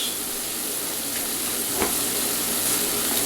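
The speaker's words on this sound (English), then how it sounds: "Dump my stock right in" Beef stock for barley soup poured through a strainer into the soup pot, a continuous hissing, splashing pour with a small clink partway through.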